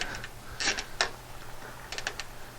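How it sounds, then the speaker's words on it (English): A plastic cable tie is ratcheted tight through the mounting hole of an outdoor LED bistro light, giving several short clicking zips in small bursts over a low background hum. "Tighten the cable tie till the light is, up there, but not like super snug"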